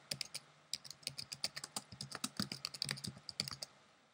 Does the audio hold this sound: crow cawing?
no